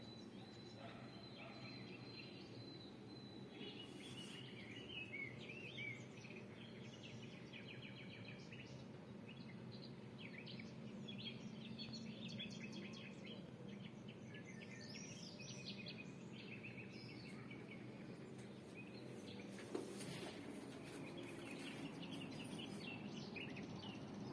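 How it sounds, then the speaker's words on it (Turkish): Scattered bird calls and chirps over a steady outdoor ambience, a few birds singing at a moderate distance throughout. "Kuş sesleri."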